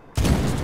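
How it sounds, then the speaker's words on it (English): Mortar shell explosion in the 2010 video game Medal of Honor, a single sudden, loud, close blast that strikes abruptly after a brief quiet moment and rolls on as a heavy, sustained rumble. "Mortar inbound."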